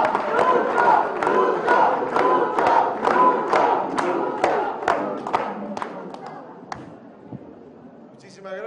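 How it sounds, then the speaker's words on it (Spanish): A large crowd at a rally for the 42nd anniversary of Bolivia's Bartolina women's confederation greets President Luis Arce Catacora with loud, rhythmic clapping and chanting cheers in a steady beat that thins out and fades toward the end. "¡Fuerte los aplausos, por"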